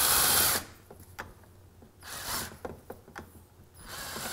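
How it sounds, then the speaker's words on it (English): A power tool spins to compress the fork spring on a Suzuki GSX-R: a loud mechanical whir at the start, then short ratcheting bursts and clicks with quiet gaps between them. "We can use a ratchet, a wrench, or I'm lazy, power tools."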